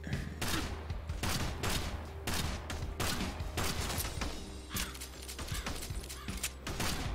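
Rapid bursts of gunfire from the video game Kill the Crows, loud and close, with dense repeated volleys filling the whole stretch and no talking over it.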